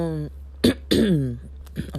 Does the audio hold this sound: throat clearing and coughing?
yes